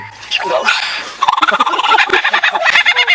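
An Australian lyrebird mimics other sounds in a loud, close run of rapid, repeated gobbling and chattering calls that grow denser partway through, with no talk.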